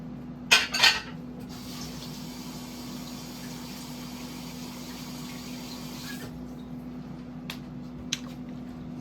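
Dishes, pots and cutlery being washed in a kitchen, a couple of sharp clatters near the start and a few faint clinks later over running water and a steady low hum, no talking.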